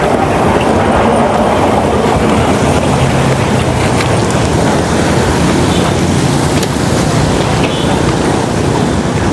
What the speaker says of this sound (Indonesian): tapi kereta api yang baru saja melintas ini tadi adalah kereta api